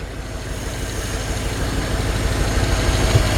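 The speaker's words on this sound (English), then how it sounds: "You can hear the engine purrs like a kitten." A 1938 Ford F1 pickup with a freshly rebuilt carburetor idles nearby, a steady low rumble that grows slightly louder over a few seconds with no talking.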